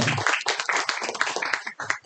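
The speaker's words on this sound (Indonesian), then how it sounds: "tepuk tangan buat teman-teman semua" A brief burst of audience clapping at a sharing session, close and uneven claps in quick succession lasting about two seconds.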